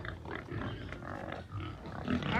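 Pigs grunt and snuffle on a Jamaican backyard farm, with a steady run of close, overlapping grunts throughout and no talking.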